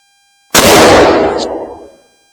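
A single loud rifle shot from a .243 Winchester Remington 700 BDL cracks sharply and then rolls off in a decaying outdoor echo over about a second and a half.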